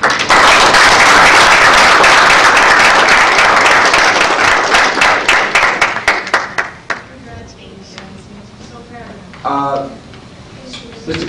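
Applause for Passaic County Technical Institute students at a Passaic County commissioners' meeting, loud dense clapping that thins to scattered claps and fades out, followed by quieter room noise and some talk.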